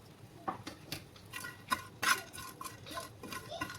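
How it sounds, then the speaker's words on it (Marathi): Garam masala and sesame seeds dry-roasting in a pan, quiet light crackles and soft scraping taps from stirring, close and faint with no talking. "याच्यात गरम मसाला आणि तीळ दोन्ही पण आपण आता भाजून घेऊ."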